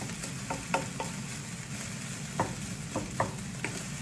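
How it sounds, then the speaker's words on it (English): Garlic fried rice with Spam sizzles steadily in a hot pan, with scattered crackles and pops over a soft frying hiss; no one speaks. "You hear the sizzle."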